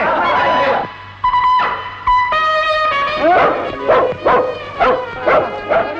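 A dog barks and yips loudly and close by, in a string of sharp repeated barks mixed with whining tones, the final stretch coming as quick rhythmic yaps.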